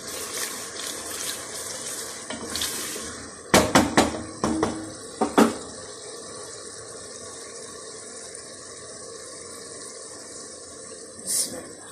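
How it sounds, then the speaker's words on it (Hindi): Chana dal tipped into fried masala in a cooking pot, a quick cluster of wet clattering thuds and splashes over a steady background hiss, then quieter sizzling. "अब मैं दाल ऐड करने लगी।"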